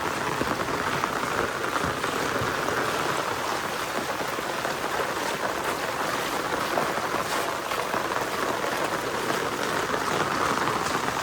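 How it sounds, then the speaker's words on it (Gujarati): Heavy monsoon rain pours without pause onto a muddy road, a dense, even hiss of drops that holds steady at full strength from start to finish with no voices. "કેટલું તો વરસાદ છે ને વરસાદ ચાલુ જ છે આપણા."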